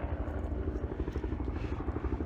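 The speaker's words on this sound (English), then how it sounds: "You can hear there's a helicopter right there coming around." A helicopter circles near a wildfire over Lake Elsinore, its steady low rotor thump pulsing continuously and fairly loud throughout, with a rumbling engine drone underneath and no talking.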